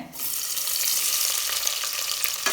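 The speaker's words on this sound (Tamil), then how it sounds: "வெங்காயம் நல்லா செவந்து வர அளவுக்கு வதக்கி வச்சுக்கலாம்" Steady, bright sizzling of sliced onions frying in hot oil for biryani, close by and continuous, with a faint stirring clatter near the end.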